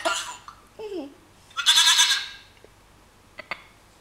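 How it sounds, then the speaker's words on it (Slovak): A goat bleats in a children's animal-sound guessing game, a wavering bleat at the start and then a louder, brighter bleat about midway, with a few faint clicks afterward and no talking. "Koza už opäť pekne mečí."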